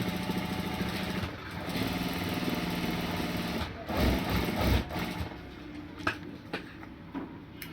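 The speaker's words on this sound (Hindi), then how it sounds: "आपने ऐसे ही अपनी पट्टी पर कॉर्नर की सिलाई लगा देनी है एक साइड पर।" A sewing machine runs its motor steadily while stitching the corner of a front fabric strip, whirring at a constant pitch before it stops and a few quieter clicks and handling sounds follow.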